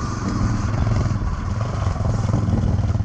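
A Yamaha XT 660 Ténéré motorcycle rides through the Ardèche countryside, its single-cylinder engine giving a loud, steady, close rumble with some rattling clatter throughout.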